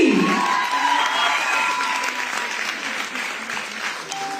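A large crowd applauds wrestler Babita Phogat at a Women's Day celebration, a dense, sustained wash of clapping with some cheering that holds steady at a loud level throughout.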